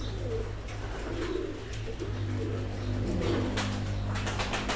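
Blue bar pigeons coo softly at a fairly close distance, their low, muffled calls recurring every second or so over a steady background hum.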